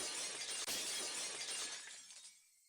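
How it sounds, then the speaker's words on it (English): Glass shattering in the Higurashi: When They Cry visual novel, one loud bright crash of breaking glass with a sharp impact early on, then scattered shards tinkling and fading out, close and without talk. "The unpleasant, piercing sound of shattered glass, the crunching noise as Arena treads across the broken shards, walking towards me."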